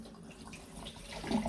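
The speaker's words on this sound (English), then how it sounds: "I usually wash the rice until the water" Rice being rinsed under a running kitchen tap, a steady low rush of water filling and splashing in a bowl or sink that grows slightly louder toward the end, with no voices.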